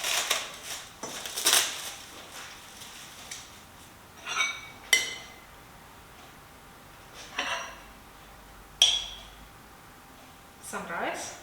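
Cooked rice being dished up from a pot, several separate clinks and scrapes of utensils against pots and dishes, spaced irregularly and fairly close, with a voice speaking between them.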